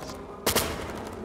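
A single sharp gunshot in the video game Ghost Recon Future Soldier bursts out loud against a quiet background, followed by a brief echoing tail.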